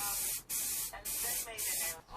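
Bursts of aerosol spray from a rattle can coating motorcycle parts black, three hissing passes separated by short pauses, close and fairly loud.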